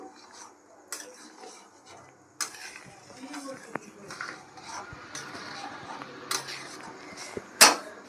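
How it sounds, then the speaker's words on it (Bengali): A sabudana dish stirred in a pan, with scattered metallic scrapes and clinks of a spoon against the pan over a quiet background, a few sharper knocks standing out. "এবার একটু নেড়ে চেড়ে দিই"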